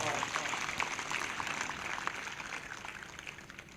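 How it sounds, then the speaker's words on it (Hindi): Rapid clapping from a worship crowd at a live morning prayer gathering, giving glory to the Lord, a continuous fairly faint rush of many hands that holds steady throughout. "फिर से एक जोरदार ताली बजाएं प्रभु की महिमा के लिए"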